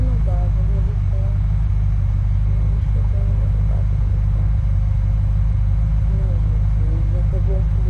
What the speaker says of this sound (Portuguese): Eu peguei o pior carro possível.